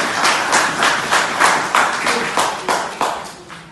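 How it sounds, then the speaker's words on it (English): A gathering congratulating a newly elected president breaks into close, loud clapping, a steady rhythm of individual claps from a small group with no talking. "A big round of applause for your hard work."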